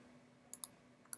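Mouse clicks, two pairs of quick sharp taps separated by a brief pause, faint and close over a quiet background.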